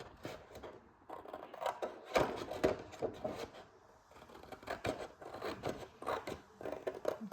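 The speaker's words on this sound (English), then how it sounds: "So let's make a cut all the way across and stop there." Scissors cut straight across a 12x12 sheet of craft paper, giving a close, dry rasping and rubbing sound in several uneven strokes with brief pauses, heard alone without talk.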